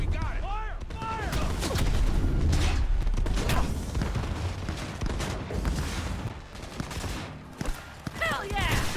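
Rapid bursts of automatic gunfire and scattered shots crackle through a firefight in Cyberpunk 2077, loud and close, with metallic mechanism clicks and booms between volleys while shouting voices call out over the shooting.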